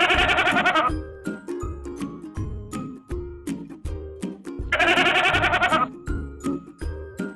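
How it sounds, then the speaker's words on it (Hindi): A goat bleats twice in a Hindi children's story, each call a loud, wavering, drawn-out cry separated by a few seconds, over a steady rhythmic musical backing. "राक्षस ने हवा में से एक बकरी को हाजिर किया और शंभू को दे दिया।"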